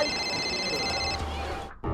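A telephone rings with a steady electronic tone for about a second, then a dramatic low sound swells beneath it before a brief cut to silence.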